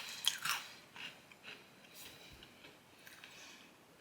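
Faint, close crunching of cream-and-onion Goldfish crackers being chewed, a handful of crisp bites followed by softer munching.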